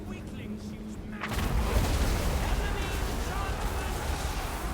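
Artillery blasts rumble through a Total War: Warhammer 2 battle, a quiet stretch giving way to a loud, sustained roll of explosions, with a voice talking under the din.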